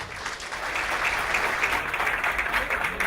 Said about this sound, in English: they deserve another round of applause for this.